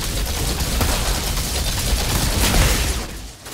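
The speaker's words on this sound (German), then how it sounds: "Die Pumpgun macht Spaß." Gunfire in the video game Outriders, with dense rapid shots blending into a loud, continuous roar of bursts and booms that fades out at the end.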